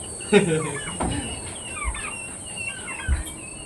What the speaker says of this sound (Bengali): মুরগিগুলো যা ডাকছে মুরগিগুলো যা চেঁচাচ্ছে